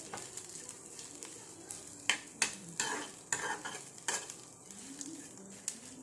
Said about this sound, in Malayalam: വറുക്കാൻ വെച്ചപ്പോൾ